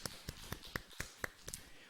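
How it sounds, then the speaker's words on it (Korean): A church congregation at Sunday worship claps in praise, with about eight evenly spaced, rhythmic claps. The clapping sounds faint and somewhat distant, and no voices come through over it. "우리 박수로 우리 하나님께 영광을 올려드리시고"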